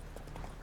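Geralt's horse Roach from The Witcher 3 moves at speed, soft rhythmic hoofbeats quick and faint in the game's sound.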